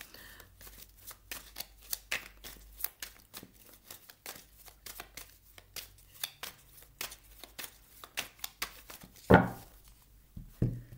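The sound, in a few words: shuffling tarot cards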